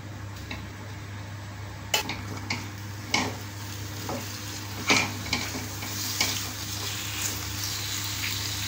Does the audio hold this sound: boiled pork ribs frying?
yes